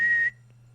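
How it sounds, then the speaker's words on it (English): One short, bright blast on a green whistle lasts about a third of a second, close and clear, then cuts off to a faint low hum. "The soldier now blew upon a green whistle,"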